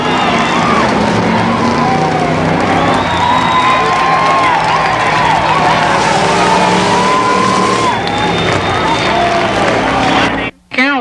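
Race cars roar around the track at Columbus Motor Speedway in 1990, a loud continuous engine din with passing whines, crowd noise and an announcer talking over it, cutting off briefly near the end.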